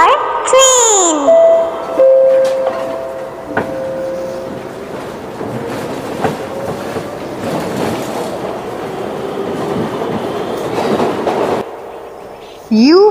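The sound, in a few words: train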